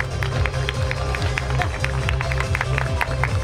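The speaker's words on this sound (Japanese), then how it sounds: "皆さん大きな拍手。" An audience applauds during a driver-introduction grid ceremony at Motor Sport Japan 2019, a crowd's continuous clapping mixed with a loud, rhythmic low-pitched beat and a public-address voice over the top.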